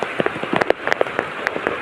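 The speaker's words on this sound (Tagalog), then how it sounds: "Lakas ng ulan talaga." Heavy rain pours in a banana grove, a dense patter with sharper drops striking leaves and surfaces close by, steady throughout without talk.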